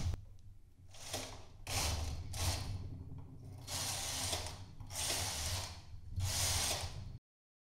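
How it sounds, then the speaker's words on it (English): Knitting machine carriage sliding across the needle bed for four rows of a diagonal basket weave stitch, each pass a rasping mechanical whir with short pauses between strokes, close and steady. "We'll pull the needles all the way out and knit 4 more rows."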